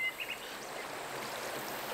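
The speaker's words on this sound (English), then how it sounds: "The constant water flow of these wadi streams stimulates a vibrant and highly diverse habitat." A freshwater wadi stream flows through a mountain nature reserve in Arabia, giving a steady broadband rushing murmur, with a faint bird chirp near the start.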